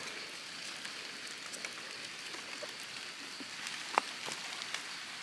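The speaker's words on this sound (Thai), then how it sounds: "ฝนก็ตกครับผม" Steady light rain patters in a forest during mushroom picking, a soft continuous hiss of drops on leaves and ground with a few distinct louder drips, faint and alone with no talking.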